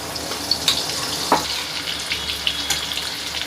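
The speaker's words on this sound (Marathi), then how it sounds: "त्यात मी आता ते भाजलेलं वाटप टाकणार आहे" Roasted masala paste sizzles in hot oil in a pan, a steady close crackle with a few small pops and faint stirring, no voices.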